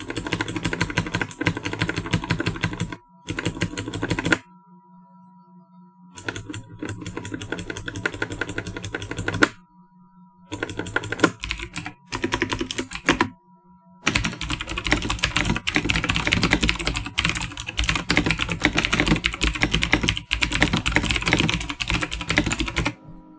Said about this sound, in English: Overall, the keys feel great to type on and have a satisfying clicky sound to them.